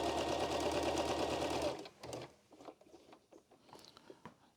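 A sewing machine with adjusted bobbin tension stitches alongside a previous seam in a steady rapid run, then stops abruptly, leaving faint clicks and handling noise.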